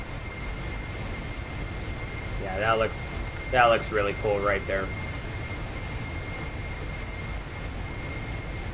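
Boeing 747 jet engines in the Prepar3D flight simulator, flying a Polar Air Cargo route, hum as a steady, even drone throughout, while someone talks briefly over it near the middle.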